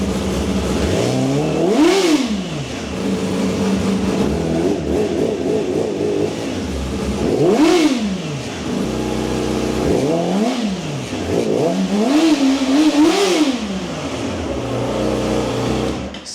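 A Yamaha YZF-R6 sport motorcycle with a stock exhaust idles steadily, then revs sharply three times, the engine note climbing and falling with each throttle blip, close by.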